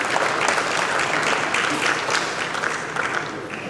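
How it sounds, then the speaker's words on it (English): A hall full of people applauding after the president's address at a national dialogue on small-scale mining, dense continuous clapping throughout with a faint crowd murmur. "You may another resounding round of applause."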